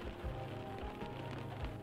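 Steady rain falls in the horror video game Chasing Static, a dense even patter with soft low thuds, heard alone without talk.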